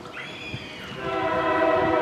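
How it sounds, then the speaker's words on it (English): Norfolk Southern freight train 363 at a Flovilla, Georgia grade crossing with the gates down, its horn sounding in sustained, loud, rising tones as the train approaches, with rail rumble underneath. "This is NS train 363 at Flovilla with an Operation Lifesaver unit trailing."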